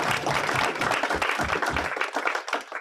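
A room of attendees at a December lunch meeting claps loudly and briskly together, a dense burst of applause that thins out toward the end.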